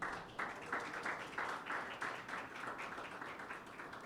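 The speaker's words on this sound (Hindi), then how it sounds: "यीशु के लिए तालियां बजाएं।" A church congregation at a Pentecost Sunday service claps for Jesus, a dense, even patter of many hands that swells in waves and holds steady, fairly faint and distant.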